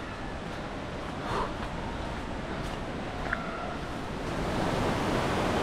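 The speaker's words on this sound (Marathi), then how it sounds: "धबधब्याचा आवाज ऐकू येतोय" Steady broadband rush of a jungle waterfall near Khopoli during a monsoon trek, a continuous roar that swells slightly toward the end, with faint distant sounds over it.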